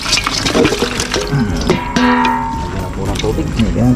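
Water poured into a cooking pot while preparing kaldereta for a birthday meal in a Filipino home kitchen, a steady splashing fill lasting the whole clip under lively talk and clattering kitchen noise.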